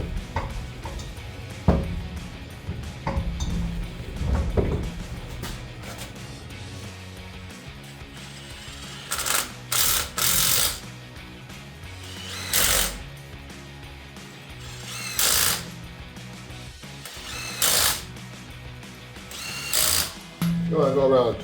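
A ratchet clicks in repeated rapid bursts while large, heavy aluminum wheels are fastened back onto a Jeep Wrangler JK, with bolt spinning and clatter between bursts.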